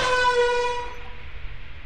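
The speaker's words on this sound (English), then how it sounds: "And the air horn." An air horn from Lethal Company gives a single loud, brassy blast that fades away over about a second, with nothing else heard.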